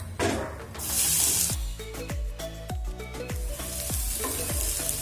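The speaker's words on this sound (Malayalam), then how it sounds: "കടുക് പൊട്ടിയതിന് ശേഷം നമ്മൾ അരച്ചു വെച്ചിരിക്കുന്ന അരപ്പ് ഇതിനകത്തേക്ക് ഇട്ട് കൊടുക്കാം" Ground coconut paste hits hot coconut oil with popping mustard seeds, bursting into a loud, continuous sizzle and spatter, with rhythmic clanks of a spoon stirring the pan close up.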